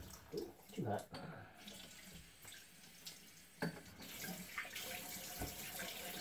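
Hot water running from a tap into a sink during a wet shave fills the space with a steady, fairly faint splashing flow, broken by a few clicks and knocks, and brief talk can be heard at the start.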